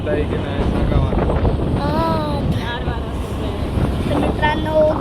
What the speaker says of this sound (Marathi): गार वारा सुटलेला आहे त्यामुळे आता खूप थंडी वाजते